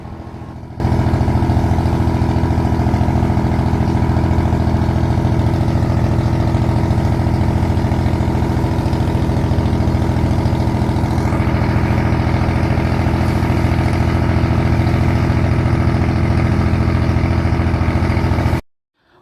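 A fishing boat's engine drones steadily and loudly at a low, even throb, running without pause and close by, with no voices.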